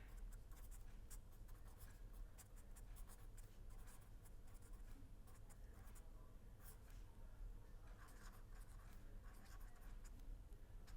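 Chalk or marker scratching steadily across a board in a lecture hall, a continuous run of short strokes and taps close to the microphone with no talking over it.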